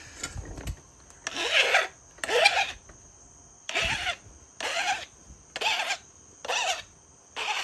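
A stone point is being worked with pressure-flaking tools at the tip, making eight close, rhythmic rasping strokes, each about half a second long with short pauses between them.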